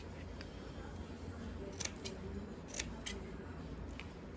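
Scissors snipping the corner tips of gingham fabric, a few short, crisp cuts in quick succession over a quiet room hum, close by, with no talk.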